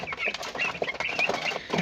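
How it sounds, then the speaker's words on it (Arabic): Chickens on a poultry farm give short, close clucks in a quick irregular chatter, several birds overlapping with a faint flutter of wings. "فراخ معايا اهي زي الفل، نشاط وحيويه"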